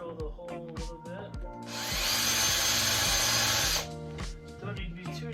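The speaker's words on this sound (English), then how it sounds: "Pre-drill the hole a little bit." A power drill whirs steadily for about two seconds, close by, pre-drilling a shallow hole for short screws, between stretches of talking.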